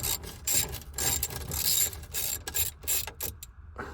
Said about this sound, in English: I'm gonna grab a 10 millimeter socket with extension, just because, and we're gonna lose these nuts right here